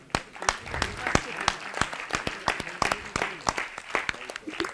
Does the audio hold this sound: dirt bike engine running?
no